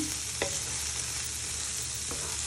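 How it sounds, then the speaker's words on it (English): Browning mushrooms or vegetables stirred in a pan with a wooden spoon, a steady hiss of frying with two brief scraping knocks of the spoon, close and moderately quiet, with no talking. "Just want to give that a little bit of a stir so it brings out the flavour."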